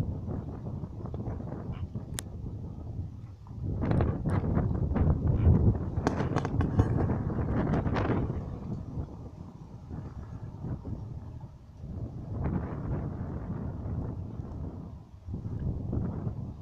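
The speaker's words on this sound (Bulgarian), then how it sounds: "Както виждате, вятърът е много силен" Strong gusting wind buffets an outdoor microphone in long, loud, rumbling surges over roughly seventeen seconds, with brief lulls, while a remote-controlled bait boat with cruise control and sonar is tested on the water.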